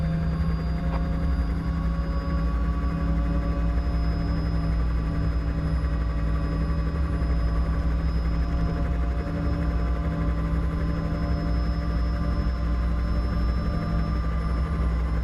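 A police helicopter's turbine engine runs steadily as power comes up, a loud continuous whine and rotor drone heard from inside the cabin, with a strong low rumble and sustained high tones throughout.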